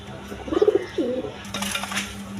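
At a pigeon farm, a pair of fancy pigeons with eggs gives a short burst of throaty cooing up close, a few pulsing notes followed by a second brief coo, then quieter rustling.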